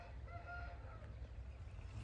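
Roosters on a farm cluck and crow in a steady mid-distance chorus over low background rumble, with no speech.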